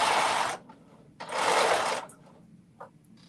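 A sewing machine stitches a dress top in two loud, steady bursts of about half a second and a second, close by, with short quiet pauses and a brief clack between them.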